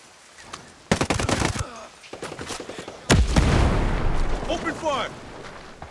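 Bursts of automatic gunfire and sharp shots in Ghost Recon Breakpoint, a tactical shooter on extreme difficulty: rapid close volleys, a heavy boom midway, and shouted voices and radio chatter mixed among the shots.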